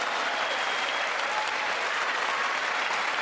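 Sustained applause fills a large chamber during a State of the Union address, a dense, steady wash of many hands clapping with no pauses and faint crowd murmur beneath.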